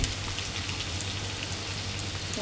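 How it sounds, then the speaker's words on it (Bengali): Chopped onions frying steadily in a pan, a continuous crackling sizzle close by with a low steady hum underneath and no talking. "তারপরে একটু ভেজে নেব।"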